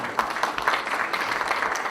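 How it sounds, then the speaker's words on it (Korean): Seated audience at a Democratic Party training session gives applause for Mayor Yeom Tae-young, a brief, moderately loud patter of many hands clapping steadily throughout. "염태영 시장님께 다시 한번 박수 부탁드리겠습니다"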